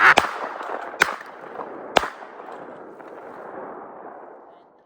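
Three loud shotgun blasts fired at a flying duck in a field, sharp cracks about a second apart, each trailing off into a long outdoor echo and rumble, with no talk.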